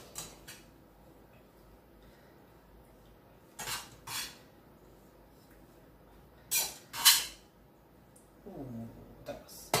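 A spoon scrapes across a pan while peri peri rice is mixed, making four short, rasping scrapes in two pairs. A quiet room sits between them, and a brief voice comes at the end.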